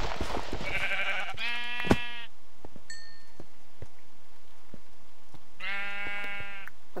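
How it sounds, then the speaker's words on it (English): Two short Minecraft sheep bleats with a pause between them, plus a faint clink in the quiet gap. "I heard a sheep."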